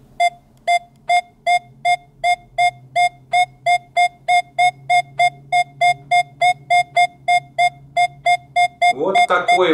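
A Nokta Makro Legend metal detector sounds over a piece of flat, rusty iron, giving a long, loud, evenly spaced series of sharp electronic beeps heard alone, with no talking.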